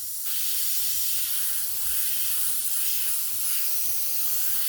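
An airbrush sprays paint with a steady, close hiss of compressed air, continuous and alone throughout after a brief start.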